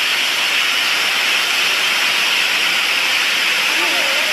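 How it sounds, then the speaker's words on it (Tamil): Steady, dense hiss of heavy monsoon rain in Thoothukudi pouring without a break, loud and close, with no voices. "பயங்கரமாக மழை பெஞ்சிக்கிட்டே இருக்குது விடாமல்"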